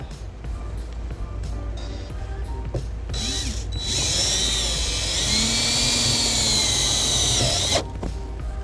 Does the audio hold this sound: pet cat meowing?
no